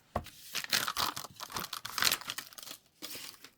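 Packaging crinkles and tears close by in irregular rustling bursts, loud and papery, with short pauses between handfuls.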